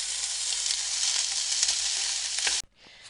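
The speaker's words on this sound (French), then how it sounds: "je fais fondre du beurre, je vais mettre de la farine" Butter and flour roux cooking in a pan, a bright steady hiss of frying close up that cuts off abruptly near the end.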